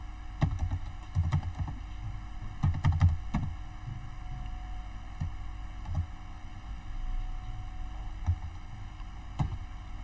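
Keys clacking on a computer keyboard while code is typed, irregular bursts of close, light taps over a low steady hum.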